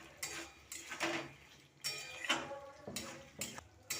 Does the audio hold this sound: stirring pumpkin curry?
yes